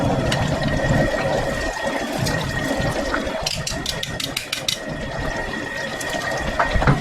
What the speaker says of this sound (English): And we'll just hold it up and let it drain.